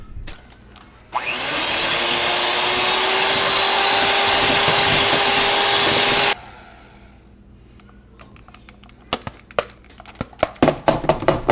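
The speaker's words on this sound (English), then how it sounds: "We're going to mix up the heavy cream until it's stiff peaks." An electric mixer whips heavy cream toward stiff peaks for a keto poke cake, making a loud, steady whirring drone for about five seconds. Afterward come quieter clinks and taps from bowl and utensils.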